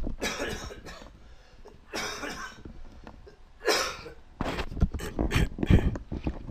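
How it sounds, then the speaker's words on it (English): Several harsh coughs from a person with a heavy cold, in bursts a few seconds apart, loud and close, followed by a rougher cluster of coughing and throat noise. "Sorry, I have to cough."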